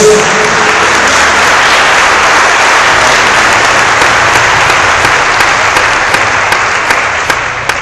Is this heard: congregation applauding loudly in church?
yes